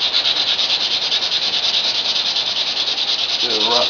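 Steady abrasive rasp of sanding across an oak buffet's wooden surface, continuous and close, with a brief low rumble near the end.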